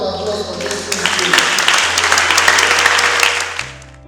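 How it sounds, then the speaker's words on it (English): An audience applauds at a charity soap-making training graduation ceremony, a swell of clapping building over a sustained low tone, with voices mixed in underneath. "A round of applause for this thing."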